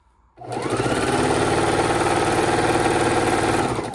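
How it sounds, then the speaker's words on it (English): A sewing machine starts up and runs continuously at a steady fast pace, stitching a long quilt border with quarter-inch seams, loud and close with no talking. "we're going to stitch this very, very long border to go around all 4 of our sides"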